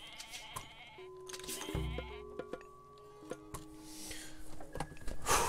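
Goats bleat in Age of Mythology, several short overlapping cries from the game's livestock mixed with other faint in-game clicks and tones, with a voice briefly audible.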